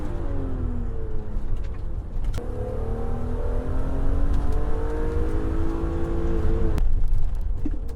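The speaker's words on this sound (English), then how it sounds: "Here she comes in the BMW, this E36 M3." A BMW E36 M3 drives past nearby, its engine note climbing and falling through gears with revving sweeps, loud and steady with a brief cut in the middle, no voices.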